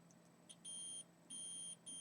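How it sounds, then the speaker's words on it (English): Multimeter in continuity mode inside a DS Lite repair, giving short faint clicks then two longer high electronic beeps, quiet and close. "I have my multimeter in continuity mode, so that's what the beeping is"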